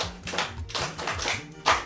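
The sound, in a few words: audience clapping hands for a speaker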